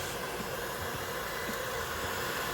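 A hair dryer on its low heat setting blows steadily at synthetic eyelashes, giving a constant close, even whoosh of air with no pauses or talking.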